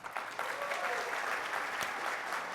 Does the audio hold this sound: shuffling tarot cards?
no